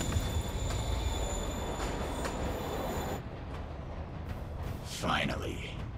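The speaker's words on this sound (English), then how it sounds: "Train's moving." A moving subway-style train in Marvel's Spider-Man Remastered rumbles steadily with a broad, continuous roar and faint high wheel squeal, then the din drops slightly before a brief louder swell near the end.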